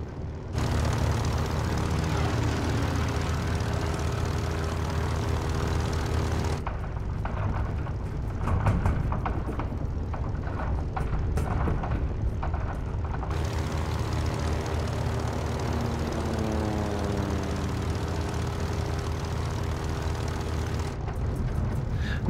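Propeller airplane engine droning in flight in a war film, a loud, steady humming drone that shifts slightly in tone between shots, with no speech.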